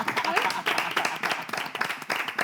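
A studio audience applauds as a guest is welcomed onto a stage set, a dense round of clapping that rises and dips over a couple of seconds, with faint voices mixed in beneath it.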